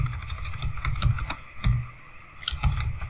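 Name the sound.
typing code on a computer keyboard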